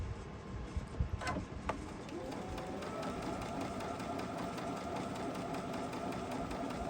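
A sewing machine stitches fabric in a quilting studio, its quiet mechanical whirring and rapid needle clatter running steadily after a few soft handling knocks.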